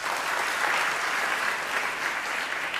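Audience applause at a Jain Panchkalyanak gathering, a dense continuous wash of many hands clapping at steady loudness throughout.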